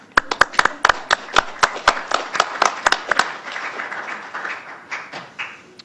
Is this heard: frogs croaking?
no